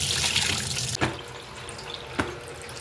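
Small headless anchovies being rinsed with vinegar for kinilaw, a close running, splashing wash with a couple of sharp clatters and drips, no voices.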